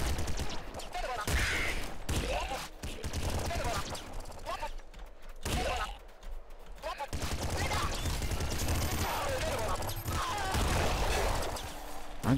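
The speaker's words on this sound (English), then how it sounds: "I just got blown up by an IDPD grenade" Chaotic Nuclear Throne combat with bursts of gunfire and an IDPD grenade explosion, rapid clattering shots broken by brief gaps and heavier bangs, loud and close.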